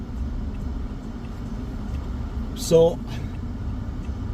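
Steady low road rumble and engine hum from inside a moving car, constant throughout, with a short spoken word partway through.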